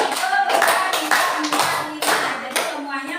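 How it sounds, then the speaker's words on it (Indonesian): Children in a primary school classroom clapping for a small group, a bright burst of applause in rhythmic waves with a few surges, close and fairly loud, with faint voices beneath. "kita beri tepuk tangan juga untuk kelompok 5 pasangan saja"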